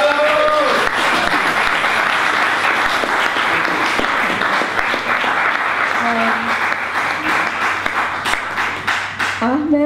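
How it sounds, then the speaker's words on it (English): An audience at an Occupy Forum talk with Egyptian activist Ahmed Salah breaks into loud, sustained applause that carries on for nearly ten seconds before thinning toward the end, with a few voices mixed in. "So let's all clap for him."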